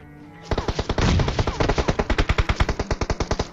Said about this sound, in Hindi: मेरे पे पीछे से फायर हुआ